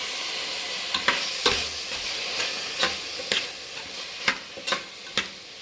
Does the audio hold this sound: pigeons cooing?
no